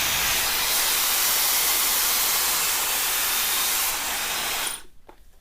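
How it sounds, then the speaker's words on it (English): A Dyson hair dryer blowing while hair is brushed and dried, giving a steady loud airy whoosh close by that continues for several seconds before switching off abruptly near the end, with no talk. "the trick is you almost do this little loop around with your brush and then keep blow drying like"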